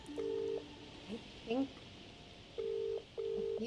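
Telephone keypad tones from a phone box in a detective video game, a few short steady beeps with a gap between, while someone speaks briefly over them.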